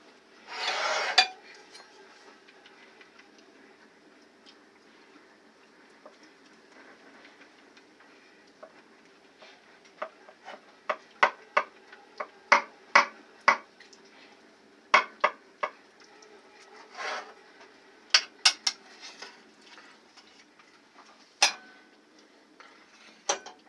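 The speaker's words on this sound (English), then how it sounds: "So when I put it in and cut like this, I'm not really using the knife edge." An Urban Slicer knife cutting through a deep dish pizza, giving a series of sharp metallic clicks and taps against the pan, irregular and close, with one louder scrape near the start, no talk.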